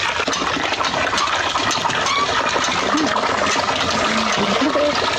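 Water pours and splashes continuously during a bath, a close, steady gushing wash with a faint voice in the background.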